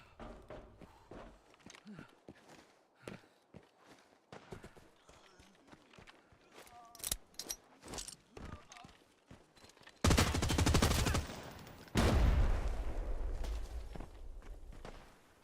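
MDR rifle fire in a shooter video game: loud sustained bursts of automatic gunfire close up, one long burst then a second after a brief gap, following a stretch of quieter scattered footsteps and clicks.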